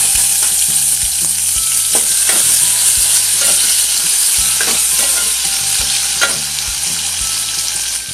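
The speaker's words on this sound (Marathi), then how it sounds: "टोमॅटो परतून घ्यायचा आहे चांगला फोडणीला" Tomatoes sautéed in hot tempering oil with mustard seeds, curry leaves and browned garlic for Malvani tomato saar, giving a loud, steady sizzle broken by repeated scraping stirs, with no voices.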